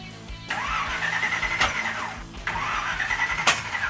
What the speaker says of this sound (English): Attempted to fire it and it backfired through the carb.